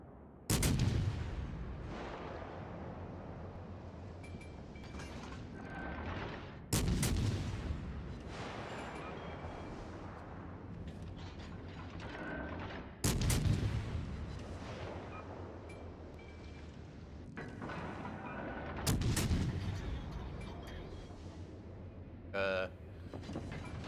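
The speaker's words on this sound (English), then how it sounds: "That Danae shooting at me." Danae tank cannon fire in a video game, four heavy booming shots spaced several seconds apart, each followed by a long rumbling tail, with a voice talking faintly between them.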